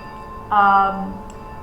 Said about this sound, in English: So that's my bell.